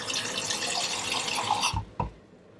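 Water sloshed and swished around a harmonica to rinse off ketchup residue, a continuous close watery rush that cuts off abruptly, followed by a brief splash and then near silence.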